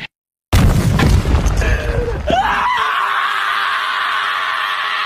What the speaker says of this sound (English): Like a bomb went off. More like a crash.